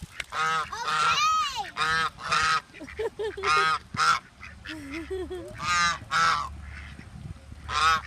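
Several geese honk repeatedly in loud, nasal bursts, close by, with irregular pauses and some softer calls between.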